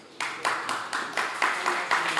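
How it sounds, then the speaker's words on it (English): A conference audience claps in a loose, rhythmic burst after a break, distinct individual claps repeating about every quarter second, fairly near and moderately loud, with no talk over them. "How about a little bit of a round of applause for"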